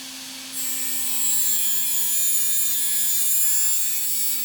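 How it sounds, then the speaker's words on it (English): A radial bristle disc on a rotary tool polishing the cut ends of wrapped wire on a handmade ring, a steady high whine with a low hum that rises to full speed after half a second and holds, close and alone. "So I'm going to take a radial bristle disc and just go over each of those ends again."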